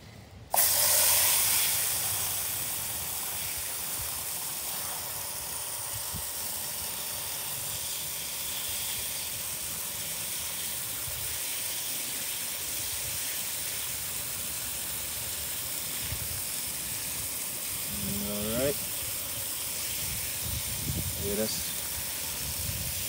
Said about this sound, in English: that's a lot of water going in there.